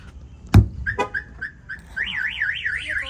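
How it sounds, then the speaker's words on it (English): A Ram 2500 pickup's car alarm wails nearby, cycling through short chirping tones and then a rapid warbling siren pattern, preceded by a couple of sharp knocks on the back window. "Your alarm is sounding on your vehicle."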